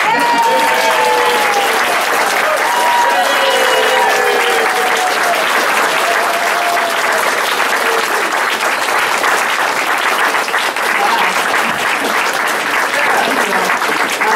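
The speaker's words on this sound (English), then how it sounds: "Okay, I think you could clap now." Loud, sustained applause from the audience at a local candidate forum, a thick, even roar of many hands clapping for the full stretch, with faint whistles or cheers near the start.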